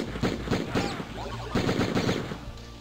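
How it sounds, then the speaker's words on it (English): An explosive shotgun fires in a video game, with rapid, loud bursts of gunfire and blasts in quick succession. "Explosive shotgun."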